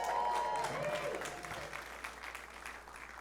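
Comedy club audience gives a short burst of clapping, a dense wash that tapers off, with a faint tone and low murmur beneath.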